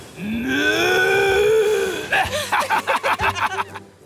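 A long, rising cartoon cow moo from the animated series Thomas and Friends, followed by a burst of rhythmic chuckling laughter.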